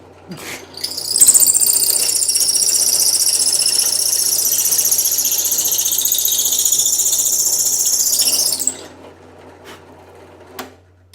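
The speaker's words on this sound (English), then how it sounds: "Might as well go ahead and drill this one over." A high-pitched whirring drill runs steadily for several seconds, then winds down and stops, leaving a quiet room with a faint click at the end.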